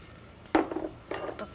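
Utensil clinking and scraping in a pan as vegetables and herbs (onions with salt, pepper, basil, oregano, sage and thyme) are stirred, two short close bursts of contact.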